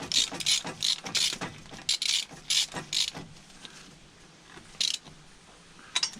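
A ratchet tightening a stud on a 4G92 engine during an oil leak fix, a series of quick clicking ratchet strokes in short bursts, close and clear, with a pause before a few final clicks.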